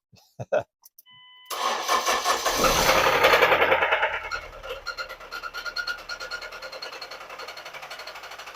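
A Ford Escape engine cranks inside a garage, catches and roars up, then settles into a rough, pulsing idle, after a few sharp knocks at the start.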